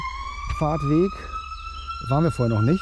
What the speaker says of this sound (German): das ist so ein Einachs-Sirenen-Anhänger vom Zivilschutz